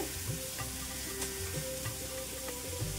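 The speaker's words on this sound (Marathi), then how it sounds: "अर्धा इंच आलं घेतलंय, हे टाकते।" Ginger drops into masala frying in a pan for misal pav, giving a continuous close sizzle with soft stirring scrapes and taps throughout.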